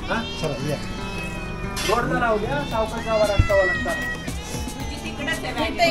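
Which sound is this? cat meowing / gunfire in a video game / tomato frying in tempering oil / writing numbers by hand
cat meowing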